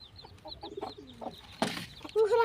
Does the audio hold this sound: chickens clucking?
yes